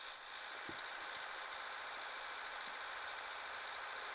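A tractor engine in Farming Simulator 14 drones steadily at mid pitch, a continuous even hum with faint knocking, heard alone at moderate level.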